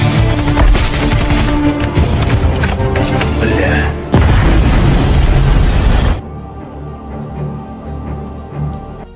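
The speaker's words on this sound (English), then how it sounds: "on Sari to kill him with a knife while the other Russian soldier falls victim to a grenade that is waiting for him" A grenade explodes in a war film scene with Russian soldiers: loud, dense booming blasts and crackling debris fill the first six seconds, then cut abruptly to a quieter, rumbling aftermath.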